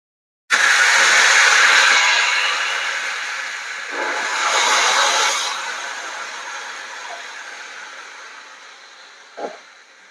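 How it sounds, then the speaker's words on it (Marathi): Water hits a hot phodni tempering for moong dal and erupts into a loud, sudden steam hiss. It fades, surges again a few seconds later, tapers off slowly and ends with a small clink. "फोडणीमध्ये आपण पाणी टाकलेलं आहे आणि पाण्याला छान उकळी आलेली आहे"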